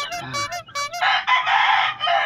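A Raptor Gilmore gamefowl rooster about eight months old crows close by, a short harsh cock-a-doodle-doo in several bursts with some clucking at the start, loud and alone.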